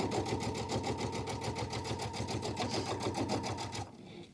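Sewing machine stitching through a foam-lined Italian Market tote bag, a steady rapid mechanical chatter running loud and continuous for nearly four seconds before stopping abruptly.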